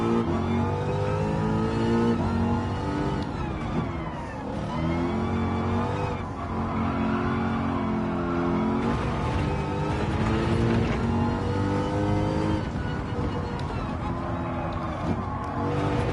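A race car in Gran Turismo 7 is driven hard: a continuous engine note rises and falls through gear changes and revving, with tyre squeal and skidding noise mixed in and no talking.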